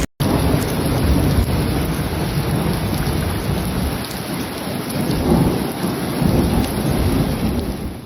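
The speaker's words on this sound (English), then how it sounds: "a pretty intense storm moving through the West Valley at the moment" Heavy rain and hail pound down through an intense thunderstorm over Phoenix's West Valley, Arizona, a loud continuous roar with rumbling thunder beneath it and no voices.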